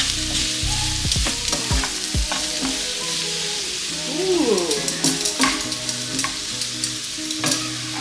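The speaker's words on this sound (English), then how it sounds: "Then you continue stir it until it's a little bit soft." Pasta cooking with milk and spices in a pan, stirred steadily with scraping spoon strokes over a continuous close sizzle, with no talking.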